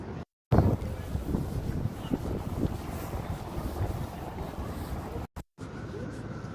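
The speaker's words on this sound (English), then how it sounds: "Not sure if you guys can hear the wind over the microphone," Wind buffets a handheld microphone on a cold, windy afternoon walk through Lower Manhattan in New York City, a steady rumbling roar that runs through the whole clip with a few brief dropouts.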